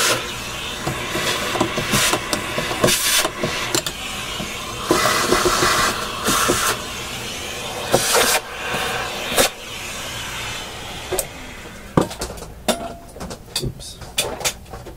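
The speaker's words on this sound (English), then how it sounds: "Let's just do a quick vacuum here." A vacuum cleaner cleaning dust from inside the amplifier of a Fleetwood 660 record player, a loud steady roar that surges and shifts as the nozzle moves, with brief rattling bursts.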